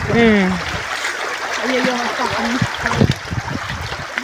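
A stream flows with a steady trickling, gurgling rush close by, and people talk over the running water.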